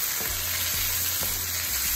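Minced garlic sizzles in a pan as a turkey meat sauce for spaghetti starts. A loud, continuous frying hiss is broken by a few soft, rhythmic stirring strokes, close up and with no voices.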